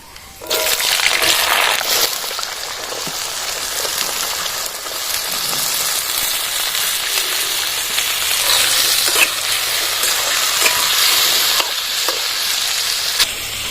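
Cut potatoes frying in mustard oil with black cumin and dried red chilli, a steady broadband sizzle with occasional stirring scrapes, close and loud throughout.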